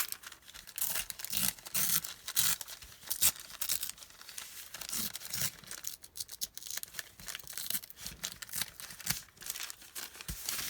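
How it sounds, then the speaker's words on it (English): Paper being torn by hand around a dragonfly image in a series of close, crisp rips and crinkles, irregular bursts of tearing continuing throughout with no talk. "I'm going to tear this around because I want that dragonfly down there."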